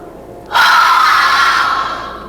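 A voice imitates a long, breathy exhale close to the microphone, starting suddenly after a moment of near silence and slowly fading.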